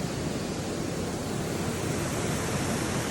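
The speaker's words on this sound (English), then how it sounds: "A couple of more baby waterfalls as we make our way through." Small waterfalls in the Watkins Glen gorge, New York, make a dense, continuous rushing roar of falling water, close and steady throughout with no voices.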